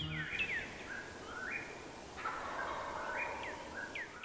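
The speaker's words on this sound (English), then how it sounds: "it was just magical to hear the threatened whippoorwill here at Wildwood Conservation Area for the first time" A threatened whippoorwill at Wildwood Conservation Area calls faintly from a distance, its repeated whistled phrases rising in a steady rhythm over a soft background hiss.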